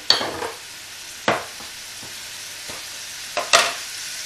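Tomatoes, a garlic clove and a cinnamon stick tipped into a hot pan for a fava bean tajine, giving a few short sizzling bursts and scrapes against a low steady background.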